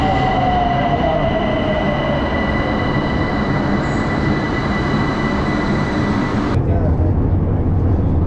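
A Tehran metro train runs with a steady loud rumble and rail noise, a high wheel squeal sliding downward early on, and a sudden shift in tone near the end.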